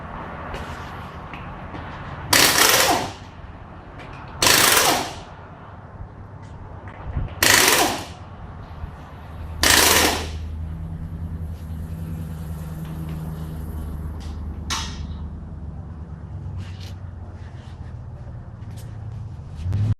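Front wheels come off a 2005 Ford Focus for a brake inspection: four loud, evenly spaced bursts of a power tool spinning off lug nuts, separated by quieter pauses with mechanical rattling in between.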